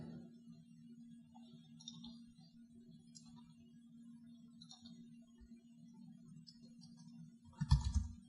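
Typing on a computer keyboard while setting up a MySQL connection in an ASP.NET project: faint, scattered key clicks in short bursts over a low steady hum, ending in a brief louder clatter.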